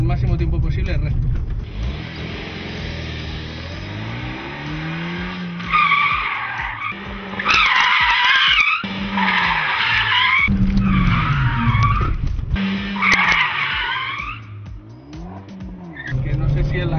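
A car spins sideways in a series of donuts, its tires shrieking in long, loud bursts while the engine revs rise and fall underneath, close to the listener.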